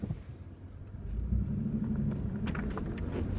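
Toyota 4Runner on new tires rolling through snow in low four-wheel drive, a close, steady low engine rumble that swells after a second, with faint crunching bumps from the snow.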